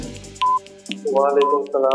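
Telephone keypad tones sound as a phone number is dialed on a television game show set, short beeps mixed with voices talking over them.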